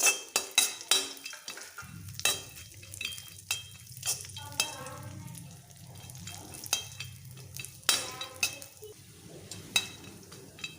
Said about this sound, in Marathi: त्यामध्ये हे ड्रायफ्रूट्स भाजून घेऊया यामध्ये काजू बदाम आणि मनुके आहेत